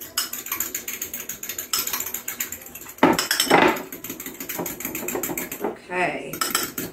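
Eggs beaten with a fork in a small dish make a quick, rapid clatter of metal against the dish, steady and close with brief pauses, while a person talks over it.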